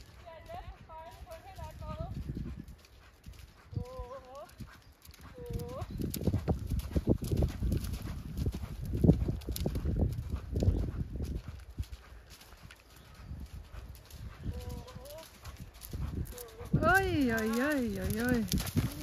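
A horse's hooves clip-clop steadily on an arena surface during bitless dressage riding, fairly faint and rhythmic, while someone talks over them and a horse briefly whinnies.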